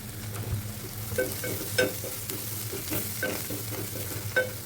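Broccoli is being stirred with chilli powder in a hot pan: a close, steady sizzle with repeated scraping and clinking spoon strokes against the pan, and no voices.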